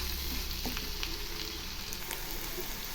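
Onions fry steadily in hot oil in an iron kadai, a continuous close sizzle with faint crackles and an occasional stir, no voices.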